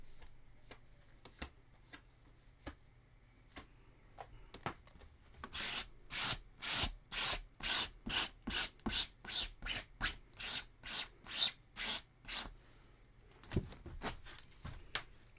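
An acrylic painting tool is rubbed clean in a rapid run of about fifteen evenly spaced, close scrubbing strokes, preceded and followed by scattered light taps and handling noises.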